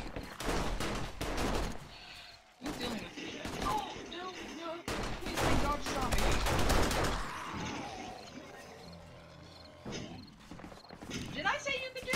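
Gunfire in a video game: bursts of quick shots mixed with footsteps and movement, moderately loud, with a person talking over much of it.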